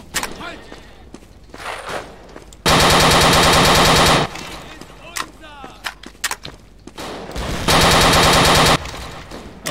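Machine gun fire in the World War II dinosaur shooter Dino D-Day, heard as two loud sustained automatic bursts, each lasting more than a second, with scattered footsteps and thuds around them.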